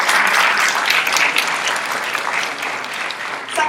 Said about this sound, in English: shall we give a big round of applause?